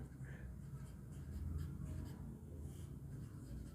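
Chalk or marker writing on a classroom board during an educational technology lesson, producing faint, close scratching strokes in short bursts under a steady room background.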